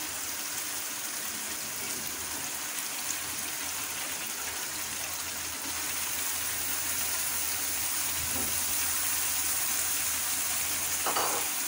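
Eggplant pieces that were soaked in water go into a pan of frying potatoes for dhaba-style achari aloo baingan, giving a steady, loud sizzle that runs throughout, with a few brief stirring clatters near the end.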